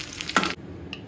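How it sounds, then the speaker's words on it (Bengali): Potatoes and cauliflower frying in hot oil give a brief, loud sizzling hiss that cuts off abruptly, then a faint flick of sound. "আলু ভাজতেছি, ফুলকপি অলরেডি ভাজছে"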